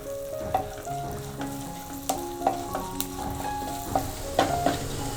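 Twelve to fifteen chopped garlic cloves sauté in melted butter over a low gas flame, giving a steady close sizzle broken by irregular clinks and scrapes of stirring, with no voices.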